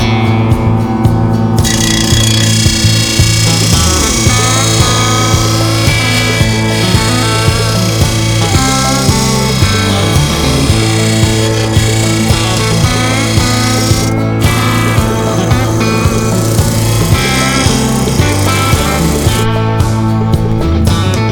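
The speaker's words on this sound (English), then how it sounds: "Vevor sent me out a lawnmower blade sharpener" A Vevor lawnmower blade sharpener runs continuously with a steady mechanical drone and layered harmonic whine, loud and close, with brief bursts of harsher high grinding.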